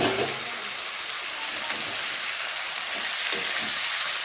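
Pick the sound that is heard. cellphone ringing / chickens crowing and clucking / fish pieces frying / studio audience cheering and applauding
fish pieces frying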